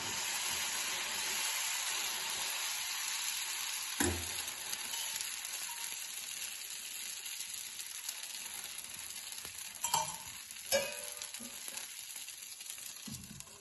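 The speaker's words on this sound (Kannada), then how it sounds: "ಒಂದ್ ಕಡೆ ಬೆಂದಿದೆ, ದೋಸೆ ತಿರುಗಿಸ್ತಾ ಇದ್ದೀನಿ. ಚೂರು ಎಣ್ಣೆ ಹಾಕ್ತೀನಿ." An ade dose (dosa) sizzles and hisses steadily on a hot pan while it is flipped, with a few brief clatters from the turning.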